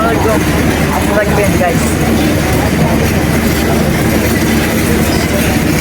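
The Sundarban Express on a station platform gives a steady, loud rumble of a train and busy station noise throughout, with a person talking over it.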